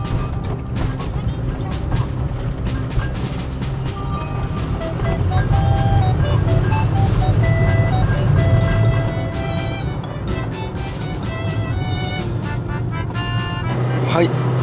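A Toyota TownAce-based camper van climbs a long highway grade at about 80 km/h, its engine and road noise forming a steady, loud rumble inside the cabin, swelling midway through with a few brief clicks.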